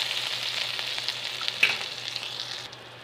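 Butter sizzles in a hot pan while making sheer khurma, a steady close frying hiss with small crackles and a brief louder pop midway, fading down near the end.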